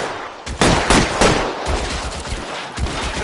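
Rapid bursts of automatic and single-shot gunfire from an L.A. Noire shootout, loud and dense, with sharp cracks overlapping in a sustained fusillade.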